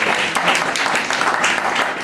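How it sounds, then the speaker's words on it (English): An audience at a Baltimore Kidney Walk kickoff event gives a steady, dense round of applause, many hands clapping together at an even level from start to finish with no voices on top. "Let's give him a big round of applause."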